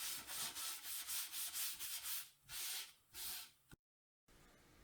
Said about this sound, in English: I'm just going to sand the patch back down to wood or as close to as I can.